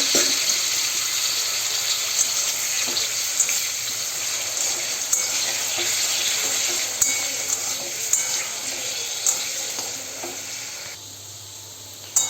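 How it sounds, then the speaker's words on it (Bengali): Diced potatoes frying in hot oil in a wok, a dense, steady sizzle with occasional stirring clicks and scrapes, close and continuous, dropping slightly near the end, no voices. "এবার কড়াইতে কিছুটা তেল গরম করতে দিয়ে ডুমো ডুমো করে কেটে রাখা আলুগুলো এতে ভাজতে দিয়ে দেবো"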